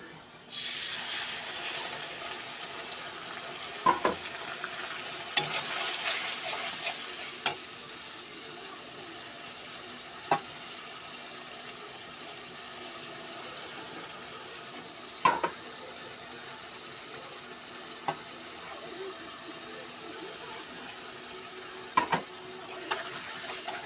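Chopped onions and ginger-garlic paste sizzle steadily in a hot pan for a chicken curry, a soft continuous frying hiss broken by occasional sharp clicks of a spoon stirring against the pan.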